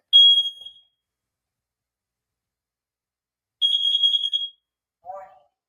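A smoke alarm sounds in loud, sharp electronic chirps: one short burst at the start and a longer pulsing burst later, with a brief voice near the end.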